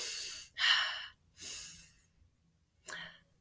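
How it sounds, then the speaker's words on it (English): A group of people inhaling and sniffing: three short, breathy intakes of air spaced about a second apart, close and fairly loud, with quiet gaps between them. "Can everybody inhale and sniff?"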